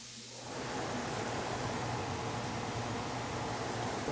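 A recirculating kitchen range hood exhaust fan switches on after a brief quiet moment, then runs as a steady, broadband whooshing drone close by.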